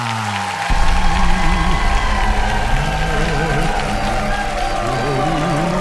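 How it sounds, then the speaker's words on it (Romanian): Theater audience applauding and cheering for acrobat Jimmy Slonina as he takes the stage, a dense, steady wash of clapping that swells and holds throughout with music underneath. "cele mai puternice aplauze pentru Jimmy Slonina!"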